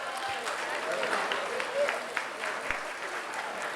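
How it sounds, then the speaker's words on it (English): Audience applause at a hospital charity gala, a steady wash of clapping from a crowd in a hall, moderately loud with a few sharper claps and faint voices mixed in. "Can I get a round of applause?"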